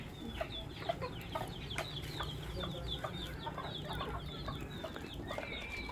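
Several pet chickens being fed corn cluck and chatter in short, overlapping calls over a steady farmyard background hum, with no talking.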